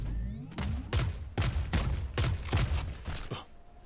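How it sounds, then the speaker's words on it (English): A missile barrage ultimate in the Valorant video game fires a rapid run of loud, heavy explosive bursts, about eight booms in quick rhythm over a few seconds. "All missiles away."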